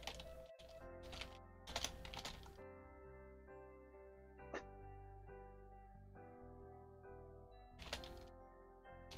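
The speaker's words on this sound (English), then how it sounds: "Anivia, get off the keyboard." A cat walking across a computer keyboard, with a few scattered bursts of key clacks and thunks that are faint and close, set over a steady tonal background.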